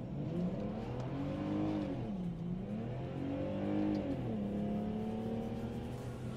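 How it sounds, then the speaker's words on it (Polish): Car engine revving while warming up, a rising and falling motor drone with several smooth revs swelling and easing over a steady idle, heard close and fairly quiet, with no talk. "Rozgrzewamy furę, żeby zobaczyć, jak ona chodzi."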